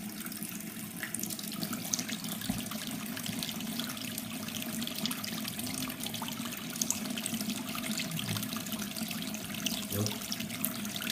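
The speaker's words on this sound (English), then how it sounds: "Now let's try this with a larger stream of water" A larger stream of tap water runs continuously from a faucet into a sink, a steady rushing hiss with a faint trickling texture, moderately quiet and unbroken.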